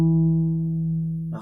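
An acoustic guitar plays part of a song's intro riff with a hammer-on: one clear note rings and slowly fades, then a short new attack comes in at the very end.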